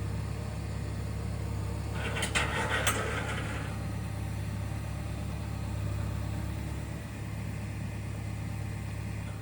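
Heavy equipment engine idling steadily at a homestead pond site, a low continuous rumble heard from some distance with a brief rattling clatter in the middle.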